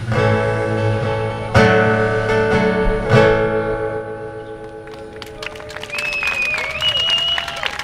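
Audience at a National Day of Action for Higher Education rally at UHM breaks into applause with scattered whistles and cheers as sustained singing or music fades out, the clapping building in the last few seconds.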